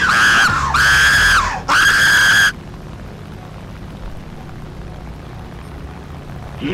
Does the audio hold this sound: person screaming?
yes